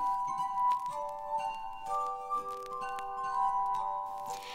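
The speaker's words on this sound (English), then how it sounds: "Put glasses of different pitches together and it's called a glass harmonica" A glass harmonica of water-filled glasses of different pitches rings out in sustained, overlapping pure tones, a quiet shimmering melody with soft clinks and no voices.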